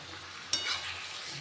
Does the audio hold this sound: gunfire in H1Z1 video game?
no